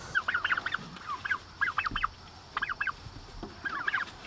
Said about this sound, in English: Our heritage turkeys